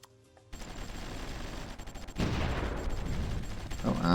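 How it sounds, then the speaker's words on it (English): Artillery fire in the strategy video game Supreme Ruler Ultimate, a rumbling barrage of rapid booms that swells louder after a short quiet start, with no voice over it. "Oh, and they got artillery somewhere."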